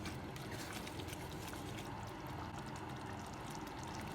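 Water poured into a pot of boiling food for a fish dish, a steady continuous rushing splash heard close and alone.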